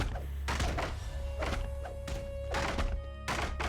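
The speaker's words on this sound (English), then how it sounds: "The last of the Magefire cannon crates has been destroyed." Magefire cannon crates are smashed in the Dungeons & Dragons Online video game. Four or five separate heavy thunks and whacks land about a second apart, with a faint sustained tone running underneath.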